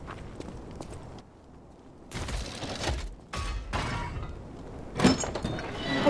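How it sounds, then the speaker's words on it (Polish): A door opening in the video game Lies of P, heard as a few loud creaking, scraping bursts and a thud after a quiet ambient stretch, close and alone without voices. "Otwieramy drzwi"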